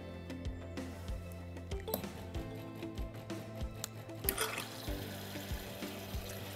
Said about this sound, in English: this time starting with the milk dispensing